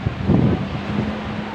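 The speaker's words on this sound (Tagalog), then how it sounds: "Malakas ang hangin." Strong wind buffets the microphone on a beach, a steady rushing roar with a louder gust near the start, no other distinct sounds.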